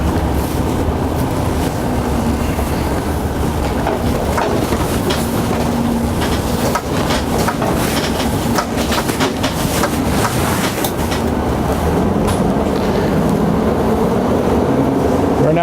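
Interior of a 2016 Forest River Georgetown 378XL motorhome with 22-inch wheels driving down a road, a continuous loud rumbling road roar with rattles and clicks from the cabin throughout.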